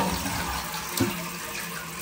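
A household toilet fitted with a new water-saving flush mechanism runs water in a steady rushing flow, with a brief clunk midway, no voices.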